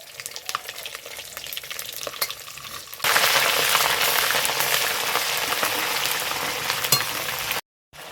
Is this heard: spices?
yes